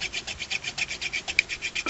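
Brake pads from a 2001 Mitsubishi Galant GLX SE 2000cc rear caliper are rubbed against an abrasive surface, making a quick series of rhythmic rasping scrapes, close and fairly loud.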